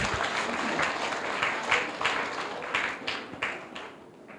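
An audience claps its hands in a loose, moderately quiet burst, with some individual claps standing out before the sound thins toward the end.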